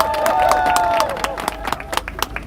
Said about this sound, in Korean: 박수로 맞이해 주시나요?